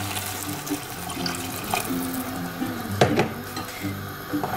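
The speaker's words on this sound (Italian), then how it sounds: "vado ad aggiungerci dell'acqua oppure del brodo" Water or broth is poured into a pot of sautéed potatoes and onions for pasta e patate, with a steady close splashing over a kitchen background and a couple of clinking pot and utensil knocks.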